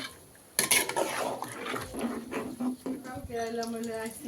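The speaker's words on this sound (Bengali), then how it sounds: "এখন আমি ভালোভাবে একটু নাড়াচাড়া দিই" A utensil scrapes and clatters inside a cooking pot in uneven strokes, stirring chicken drumsticks for a korma, with a voice speaking near the end.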